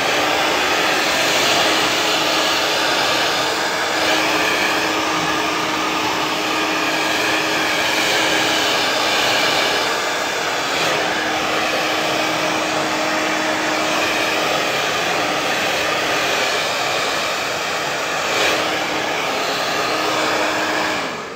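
Hair dryer blowing steadily and loudly at close range while the sides of a pompadour cut are brushed, a continuous airy roar with no speech throughout.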